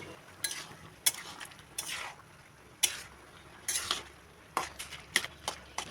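Green chilies and turmeric being stirred in a cooking pot while a fish-head and ash-gourd dish is made, giving irregular metal scrapes and clinks of a utensil against the pot, with soft background noise and no talk.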